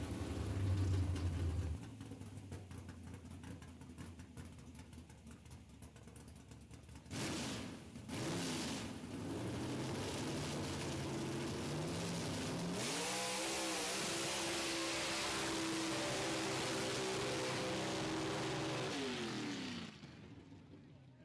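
A race car doing a burnout at a drag strip, a loud, sustained engine roar with a revving surge partway through that holds steady before cutting off near the end.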